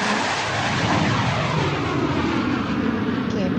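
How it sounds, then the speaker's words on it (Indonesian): An airplane lands with a loud, sustained roar of engine and rushing air that holds steady and fills the whole stretch, with no talking over it. "Kita akan mendarat pesawat."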